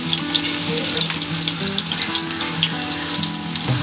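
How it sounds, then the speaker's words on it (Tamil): Chopped onions fry in oil with bay leaf and star anise for a vegetable biryani, giving a loud, steady sizzle with small crackling bursts throughout and no voices. "இப்போ வெங்காயம் நல்லா வதங்கிருச்சு"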